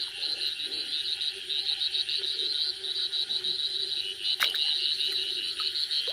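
Frogs croak at night in a jungle, forming a steady, shrill chorus that pulses continuously at moderate volume, with a few faint sharp clicks from nearby creatures.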